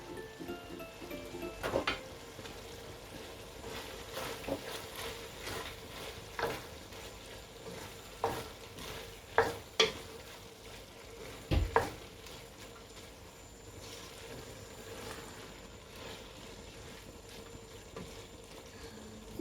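Capsicum tossed into chicken keema with peas frying in a pan, with steady sizzling under repeated stirring and a few sharp clanks of a spoon against the pan, close up and without talk.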